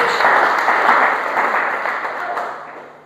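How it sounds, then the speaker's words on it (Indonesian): A church congregation bursts into loud, sustained applause, dense clapping filling the hall before gradually tapering off. "Tepuk tangan yang terbaik buat Tuhan Yesus Kristus."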